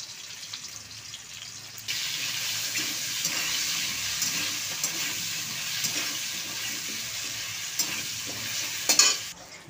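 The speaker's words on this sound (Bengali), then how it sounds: "সামান্য একটু নুন আর হলুদ দিয়ে আলুটাকে ভেজে নেব" Potatoes frying with a little salt and turmeric in a wok: after a quieter start, a steady frying hiss settles in for several seconds, with light stirring scrapes and a louder clatter near the end, no voices.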